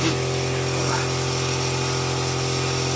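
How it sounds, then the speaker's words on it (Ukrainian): Homemade smoke generator running steadily during leak testing on a Chevrolet Lacetti: continuous hum with a buzzing drone, constant and close throughout. "Ось у нас такий димогенератор. Він саморобний, але дуже непогано працює."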